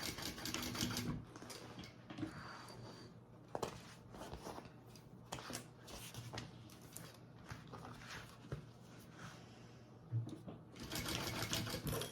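A sewing machine top stitches a tote bag in a fast, steady mechanical whir that runs in bursts with brief pauses, quiet and close, with no speech.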